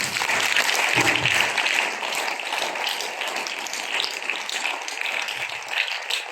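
A church congregation claps in a dense, sustained round of applause that fills the room, steady and loud before gradually easing.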